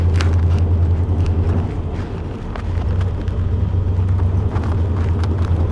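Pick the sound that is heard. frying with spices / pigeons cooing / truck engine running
truck engine running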